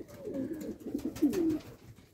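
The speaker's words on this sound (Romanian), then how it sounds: "familiile mele de porumbei" Soft, low pigeon coos repeating in a gentle rolling rhythm, close by and fairly quiet, with no talking.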